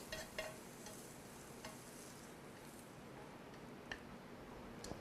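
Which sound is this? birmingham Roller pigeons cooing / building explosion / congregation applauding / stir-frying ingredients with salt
stir-frying ingredients with salt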